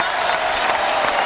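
A basketball arena crowd applauds a player who has fouled out of an NBA game between the Atlanta Hawks and San Antonio Spurs, a broad, steady wash of clapping and crowd noise, continuous and full.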